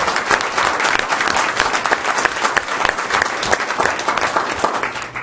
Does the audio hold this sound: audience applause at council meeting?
yes